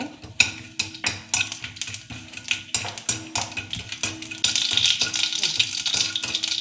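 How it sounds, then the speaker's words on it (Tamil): Mustard seeds and asafoetida fry in oil for a pirandai chutney while a spoon clinks and scrapes against the pan in a quick, uneven rhythm. A soft sizzle swells toward the end, close and fairly quiet. "கொஞ்சம் கடுகு, அப்புறம் இதோட பெருங்காயம் கொஞ்சம் போட்டுக்கோங்க."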